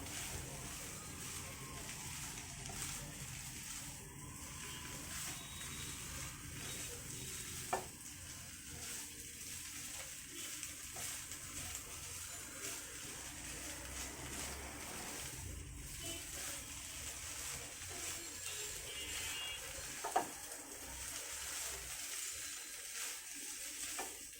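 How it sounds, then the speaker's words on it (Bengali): Chicken being stirred and sautéed in a pan, a steady soft sizzle with gentle scraping of the spoon and a couple of sharp clinks against the pan, low in level throughout. "এভাবে কিছুক্ষণ নেড়ে সেড়ে কষিয়ে নিব"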